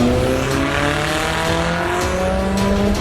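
V8 car backing up and revving: a loud, continuous engine drone with rising and falling tones throughout, close and steady, with no talk.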